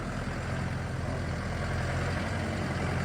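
Chinese 50-horsepower mini tractor with forced hydraulics, its engine running at a steady idle, a constant low diesel drone that stays level throughout, with no voices.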